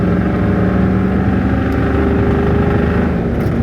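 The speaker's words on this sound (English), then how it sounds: "She sounds real nice too. Real nice sounding truck." An old truck driving along, a loud, steady engine drone with a constant low rumble and a slight rhythmic throb, close up and uninterrupted.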